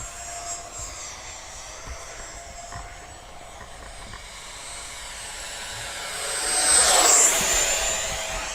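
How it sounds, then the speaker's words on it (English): An Arrows Avanti 50mm electric ducted-fan RC jet whooshes low over the runway, its high whine swelling loudly as it passes close by and then fading away. "See if I can bring it in slowly. A low pass over the runway."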